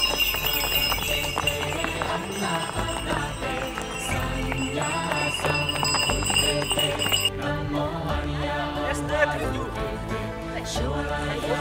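Villagers' horses on a mountain trail in the Nepal Himalaya pass close by with loud, busy hoof clip-clops, bells jingling among them, and a voice over the hooves.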